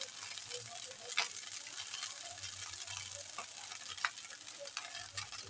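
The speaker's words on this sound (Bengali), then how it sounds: "এই মশলাটা ভালোভাবে নেড়ে চেড়ে নেব।" Spice mix frying in a pan for Chinese-style pasta, a continuous bright sizzle with a few soft scrapes and clinks from stirring, close and steady, no talk.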